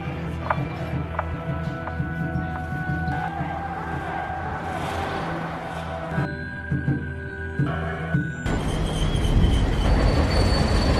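A freight train rolls along the tracks with a low rumble, wheels squealing in sustained high tones and clattering, growing louder and rougher near the end.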